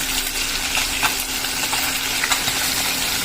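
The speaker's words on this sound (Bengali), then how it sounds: "আমাকে বেশ ভালো করে ভেজে নিতে হবে, সেজন্য আমি একটু অপেক্ষা করছি মাছ ভাজা পর্যন্ত।" Fish fries in a covered pan in a village kitchen, giving a steady broadband sizzle and hiss with small crackles throughout, fairly loud and close, with no talking.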